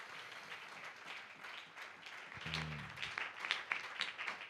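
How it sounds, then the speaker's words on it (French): Congregation at a Wednesday church service applauding, a dense, moderately distant patter of many hands clapping that swells in the second half, with a low murmur beneath. "Acclamons le Seigneur pour son amour."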